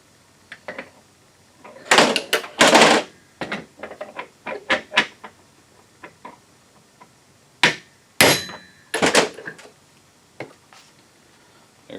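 Steel bushing driver hammered against a thin bushing during a 4R70W transmission to Dana 20 transfer case swap, heard as sharp metallic blows in irregular clusters, two heavy bursts early and another pair near the end, close and loud with no talking.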